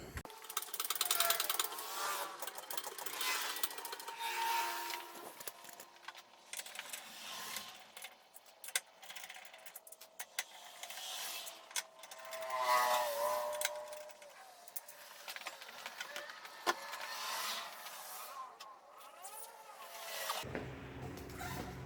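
A car jack cranked under a BMW i3 during a snow tire swap, with repeated metallic ratcheting clicks and clanks at an uneven pace, fairly faint and close, broken by short pauses.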